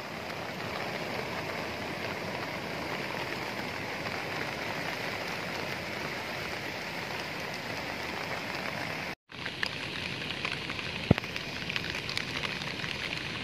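Heavy rain from a typhoon pours steadily over a landslide-blocked highway in mountainous Mường Lát, Vietnam, a dense unbroken hiss that cuts out for a moment and then resumes.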